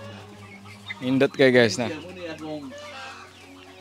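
Chickens of a dominant CZ breed cluck at a Cebu breeder's farm, a burst of close, loud clucks mixed with people talking nearby.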